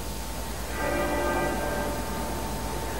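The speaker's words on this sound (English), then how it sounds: "The muffled tenor bell at the Abbey marking the progress of the procession" The muffled tenor bell at Westminster Abbey tolls a single struck note that rings on and slowly decays, distant and softened under a constant wash of outdoor crowd and street noise.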